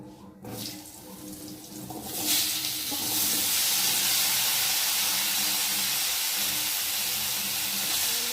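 Cut potatoes drop into hot oil in a pan and a loud sizzle swells up after a couple of seconds, then holds as a steady, close crackling hiss.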